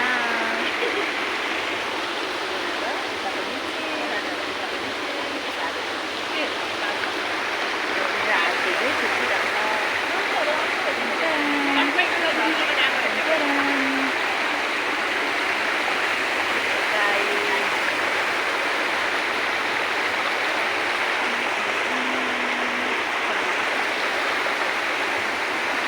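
A river stream flows steadily beside an outdoor picnic spot, a continuous broad rushing of water that stays loud and even throughout, with people talking faintly underneath.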